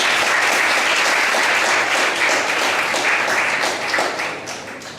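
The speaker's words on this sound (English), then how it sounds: "Yes, just big clap." A workshop audience welcomes the next speaker with dense, sustained applause from a large crowd, loud and continuous before easing off slightly at the end.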